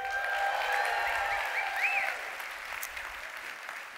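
A large crowd applauds and cheers loudly, a few whoops rising over sustained clapping that slowly thins out.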